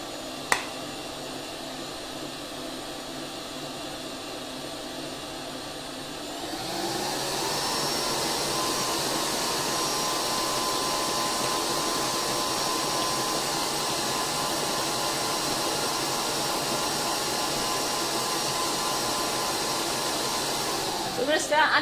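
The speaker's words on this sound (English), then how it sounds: "Do you have the whisk or the beater attachment on the mixer? I've got the beater attachment." Electric stand mixer with the beater attachment running for a sponge cake batter, a steady whirring drone that steps up to a higher, louder pitch partway through and holds evenly.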